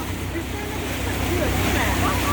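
A 30 hp outboard motor pushes a Viyaboat 4.75 boat across open water with a steady, loud, continuous drone and low rumble, while people talk over it.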